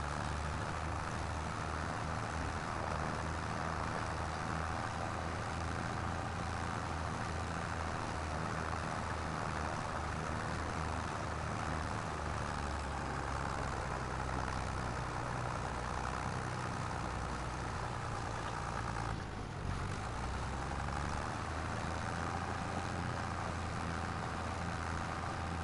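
A farm tractor in Farming Simulator 25 idles with a steady, low, heavy rumble that holds at an even level all the way through, with no voices over it.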